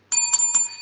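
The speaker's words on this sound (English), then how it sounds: "There's the bell, so we know what that means." A bright bell rings out to close a wrestling podcast episode, three quick ringing strikes with a sustained metallic tone, loud and close with no talk.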